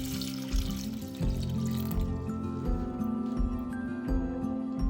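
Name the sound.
pouring water into pot to boil potatoes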